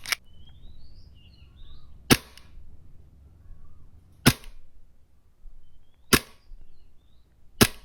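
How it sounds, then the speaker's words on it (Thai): Airsoft pistol built on an M1911 frame with a Hi-Capa 4.3 slide test-fired: five sharp, loud single shots spaced about two seconds apart, each a crisp snap with quiet gaps between and no talking. "เดี๋ยวเราลองยิงเทสดูว่าเป็นยังไงฮะ"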